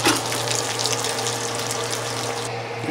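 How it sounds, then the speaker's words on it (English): Water pours steadily into a curry pot for a Jamaican chicken curry, a continuous close rushing splash with a low steady hum underneath and no talking. "To put in the curry pot, just add the water."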